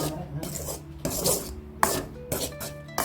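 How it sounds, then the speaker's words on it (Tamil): Wheat flour is being dry-roasted in a pan over low heat for palm jaggery halwa, with a spatula rasping and scraping through it in uneven bursts, close and fairly quiet, without talk. "கோதி மாவு போட்டு இப்படி வறுத்துக்கலாம் லேசாக தீ வச்சு கம்மியாக தீ வச்சு வறுத்துக்குவோம்"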